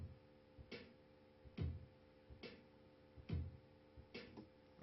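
Half-time dubstep drum pattern with kicks and snares, sparse and slow, repeating roughly every 1.7 seconds. A deep kick lands with each snare-like crack, and a fainter hit falls between them. No one speaks.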